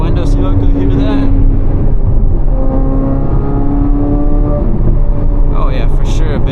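A 2025 Corvette C8 Z06 with the Z07 package, its engine and exhaust heard through an open rear window, a loud, close drone with rising pitch under acceleration, with brief voices at the start and end.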